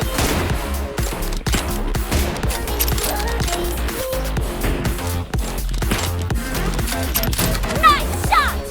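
Rapid video-game gunfire from PUBG Mobile, an M24 tournament match, crackles in dense bursts throughout, layered with music and game effects, with brief voice callouts mixed in.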